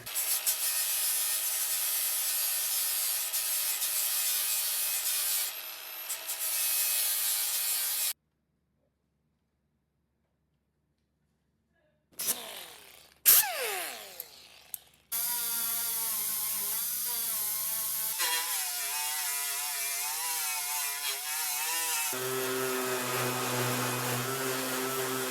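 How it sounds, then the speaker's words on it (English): An angle grinder works on welds on the metal of a 1965 VW Beetle's rusted spare tire well, a loud steady whine broken by a pause and a few short scraping bursts before grinding resumes. "Let's grind those welds a little bit."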